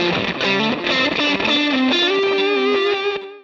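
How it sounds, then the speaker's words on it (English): Electric guitar through a high-gain fuzz patch on a Line 6 Helix, a thick saturated sustained tone playing a short melodic line that slides and rings out before stopping abruptly. "the high-gain sound is a fuzz"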